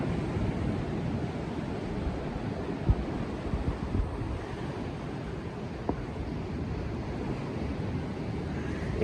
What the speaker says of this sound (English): we're constantly accompanied by the sound of the sea